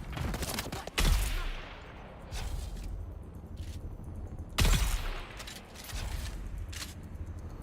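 Gunfire in the sci-fi survival game Dune Awakening: two sharp, heavy shots crack loudly about three and a half seconds apart, each with a fading tail over a rushing ambient bed, with lighter clicks between.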